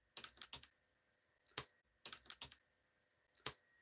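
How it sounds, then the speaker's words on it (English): Quick bursts of keystrokes on a computer keyboard, clustered clicks separated by short pauses, close and fairly quiet. "I was just typing."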